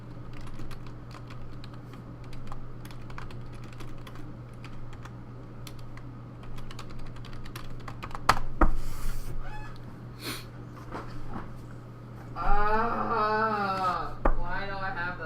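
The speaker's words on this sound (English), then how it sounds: "what is he typing?" Keys clatter on a computer keyboard in quick irregular bursts, fairly close, with a few louder bumps and a short burst of other chatter or noise near the end.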